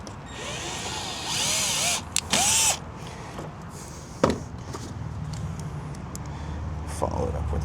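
A power drill drives a self-tapping screw into a Ford Transit's rear door, giving short whirring bursts and a brief high whine, close by, followed by clicks and handling clatter with a few spoken words.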